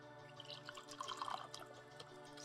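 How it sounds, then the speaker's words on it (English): Tea pours into a cup, a faint, close trickle with light drips and splashes building in the middle of the clip, heard alone in a quiet room. "I am pouring myself tea."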